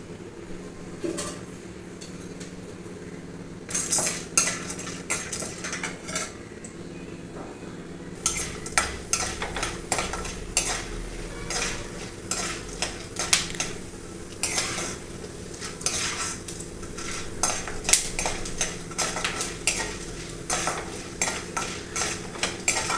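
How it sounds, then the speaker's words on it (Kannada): Peanuts and chana dal fry in hot oil and are stirred, with a steady sizzle under repeated scraping and clinking of a spoon against the pan, growing busier and louder partway through; no one speaks. "ಎಣ್ಣೆ ಬಿಸಿಯಾದ ನಂತರ ಕಡಲೆ ಬೀಜ ಹಾಗೂ ಕಡಲೆ ಬೇಳೆಯನ್ನು ಫ್ರೈ ಮಾಡ್ಕೊತಾ ಇದ್ದೀನಿ."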